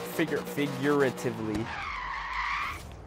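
A Chevrolet Corvette Z06 drag build in Forza Horizon 3 spins its tires with a rising screech after revving engine notes, the squeal holding for over a second; a voice talks over the start.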